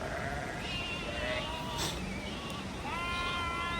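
Sheep and goats bleating with nomadic shepherds, several wavering bleats at different pitches, moderately close over a hissy background, with a few overlapping calls near the end.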